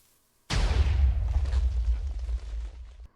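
A bigger, long-range TNT cannon fires in Minecraft: after a short silence, one sudden loud blast swells into a heavy, rolling boom that rumbles on for several seconds before cutting off.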